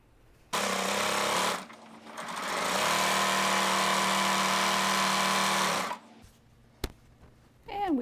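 Sewing machine stitching a gray fabric strip onto a reversible table runner: a short burst, a pause, then a long steady run of rapid stitching, close and loud, followed by faint clicks.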